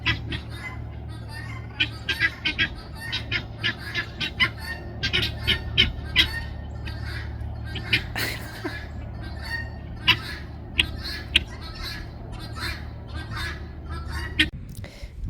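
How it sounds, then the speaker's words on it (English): Turkeys at a farm barn gobble and squawk in quick, repeated bursts over a steady low hum, the calls near and frequent throughout, with people talking faintly at times. "Look at these turkeys running around."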